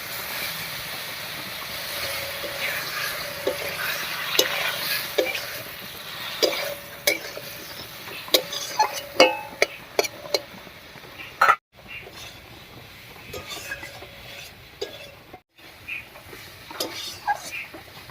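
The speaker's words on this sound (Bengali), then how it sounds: "একটুখানি জল দিয়ে কচু আর আলুর সঙ্গে কষিয়ে নেব মশলাটা" Spices with taro and potatoes and a little water are stir-fried in a pan, with a spoon clinking and scraping against the metal over a low sizzle, irregular strokes up close and two brief silent gaps.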